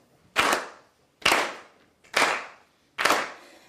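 A debate audience claps in unison, four sharp, loud, evenly spaced collective claps about a second apart, each ringing briefly in the hall with no talking over them.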